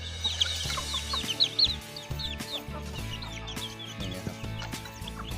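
Young chickens clucking and peeping repeatedly while foraging outdoors on a farm, with a steady low hum underneath and no talk.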